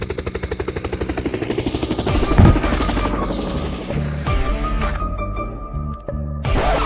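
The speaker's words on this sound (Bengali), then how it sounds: "হেলিকপ্টারের শব্দ।" A helicopter's rotor thuds in a fast, steady pulse, loud and near, then swells into a roaring wash mixed with clattering, crashing effects and a brief voice.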